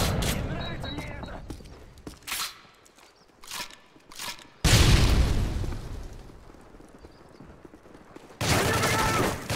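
Grenade blast and gunfire in Call of Duty: Modern Warfare 3 Survival Mode on the Piazza map, scattered sharp shots followed by a loud booming explosion and later another heavy burst, with voices talking between.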